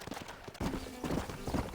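Wild horse hooves in the Red Dead Redemption Mobile video game, a brisk run of clip-clop beats near and fairly loud, with game ambience and a faint whinny-like tone.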